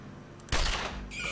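Gunfire in the video game Sword of the Stars: The Pit as an enemy is shot, a single loud abrupt blast with a rumbling tail, followed by a brief bright electronic chime.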